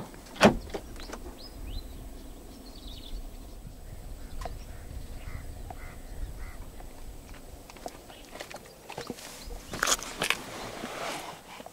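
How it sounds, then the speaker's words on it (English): Keyless locking and unlocking on a 2022 Volkswagen Tiguan Allspace 1.4 TSI Life: a few sharp clicks and clunks of the door locks, one near the start and a cluster toward the end, over a quiet outdoor background. "to unlock the car, just wait a moment and tap the area again behind any of the front door handles"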